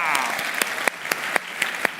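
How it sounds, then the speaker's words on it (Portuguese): A short burst of group clapping at a New Year countdown, a few distinct rhythmic claps ringing out alongside a speaking voice. "Todo mundo na salva de palmas."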